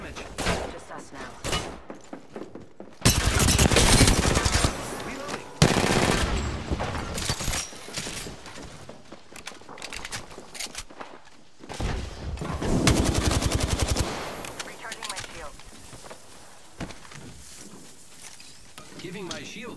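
Bursts of automatic gunfire from an attacking squad in a shooter game, loud rattling volleys in several clusters with quieter gaps between them, and in-game voice callouts can be heard among the shots.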